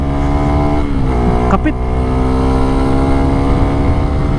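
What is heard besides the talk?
Suzuki Raider 150 Fi motorcycle engine while riding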